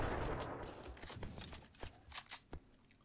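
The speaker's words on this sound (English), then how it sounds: "Lots of uh, test shots going off right now. A few explosions here and there" Gunfire and explosions from a competitive EV.io shooter match sound as a scattered series of sharp cracks and bursts, with a few louder close shots near the end over a quiet background.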